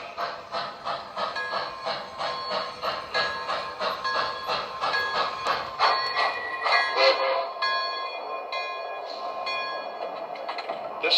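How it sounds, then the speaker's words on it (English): The Sunrise Special, train number 5 from Montauk, arrives on track 1 with rhythmic clattering pulses from the wheels that slow and give way to ringing metallic squeals and tones as it comes to a stop nearby. "Now arriving from Montauk on track 1, train number 5, the Sunrise Special."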